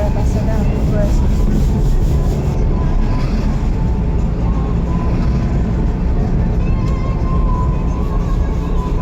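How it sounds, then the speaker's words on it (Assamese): A train runs alongside a moving vehicle, producing a steady, loud rumble and rattle of wheels and cars that continues without a break, with wind noise over it. "এটা চাইডে ট্ৰেইন গৈ আছে"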